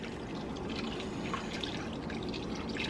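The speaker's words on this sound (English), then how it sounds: "You're going to pour about 2 cups of water in here" Water pours steadily into a cooking pot for chicken and dumplings, a continuous close splashing trickle with no talk.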